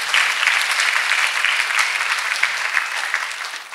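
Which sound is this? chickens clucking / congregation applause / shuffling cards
congregation applause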